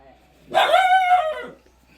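A single drawn-out bark or yelp from a dog, loud and close, lasting about a second against a quiet background.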